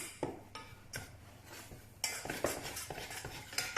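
Choux pastry panade being stirred and pressed in a pan over very low or no heat, with repeated scraping strokes of a spoon against the pan in an uneven rhythm, close and fairly quiet.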